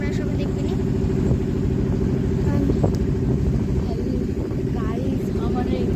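A trawler's engine chugs with a constant heavy low rumble and pulsing beat throughout a boat outing, close and loud, with people talking over it.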